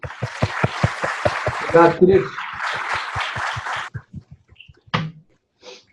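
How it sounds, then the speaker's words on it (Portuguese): A lecture audience applauds the speaker after a talk on res judicata, with steady rhythmic claps for about four seconds as a voice speaks over them, then fading into a few scattered claps. "vamos agradecer então, professor Renan, com uma calorosa aplausos aqui para ele."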